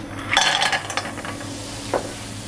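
Garlic and clams hitting a hot small pan, a brief burst of sizzle with a few metallic clinks and stirring scrapes, close and short, then settling into a soft hiss.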